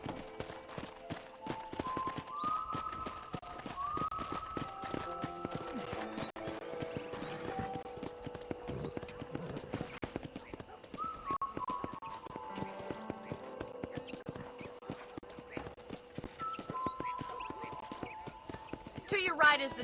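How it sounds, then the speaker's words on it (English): Horse hooves clip-clopping steadily during a ride in Red Dead Redemption, a continuous trotting rhythm under an occasional whinny and a voice talking through most of the stretch. "let's see if you can still ride a horse"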